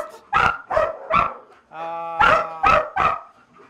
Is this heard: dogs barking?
yes